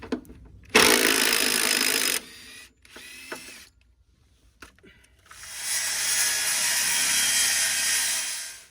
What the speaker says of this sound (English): I'm just cutting the floor at the minute with the small saw